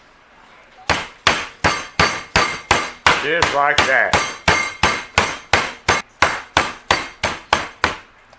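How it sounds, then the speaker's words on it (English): Repeated heavy thuds of a meat hammer pounding chicken under plastic wrap, about twenty steady strikes close up, with a brief spoken remark in the middle. "I got me a meat hammer. So we're going to pound the shit out of her."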